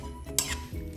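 A spoon scrapes and clinks against a dish as tomato curry ingredients and oil are stirred together, one sharp metallic scrape standing out in a brief, close burst.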